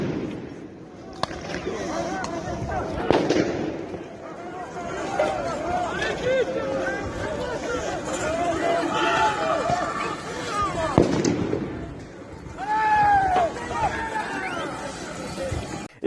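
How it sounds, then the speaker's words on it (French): Fireworks and firecrackers set off by fans inside a football stadium during crowd unrest at Saint-Étienne crack and pop repeatedly amid a loud shouting crowd and whistling, with voices throughout. "Fumigènes, feux d'artifice, pétards, des scènes de guérilla dans un stade de foot"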